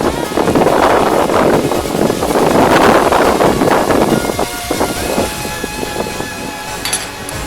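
Strong wind gusting outdoors in a park, buffeting the microphone with loud, continuous roaring rushes that ease slightly toward the end, with a few faint higher tones near the close.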